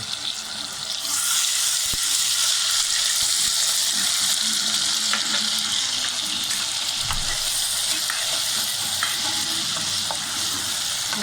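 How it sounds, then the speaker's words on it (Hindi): Ginger garlic paste fries in a pan, giving a loud, steady sizzle that runs unbroken with occasional soft stirring knocks. "ये हल्का सा बस भून जाए हमारा अदरक लहसुन"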